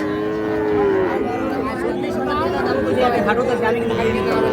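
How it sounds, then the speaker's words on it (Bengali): A Sahiwal heifer calf at Ambari cattle market in Parbatipur, Dinajpur, lowing in long drawn moos, close and loud amid crowd chatter, with someone talking over it. "এইখানে আমরা একটা একেবারে কোয়ালিটি সম্পন্ন বাছুর দেখছি।"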